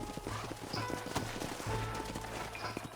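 Horses' hooves clip-clopping in Red Dead Redemption 2, a quick irregular patter of several horses close by, with a faint whinny and background game ambience.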